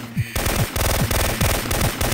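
Rapid, loud bursts of gunfire from snipers in the PlayStation game Syphon Filter 2, a dense stuttering run of shots with regular pulses repeating through the clip, no talk.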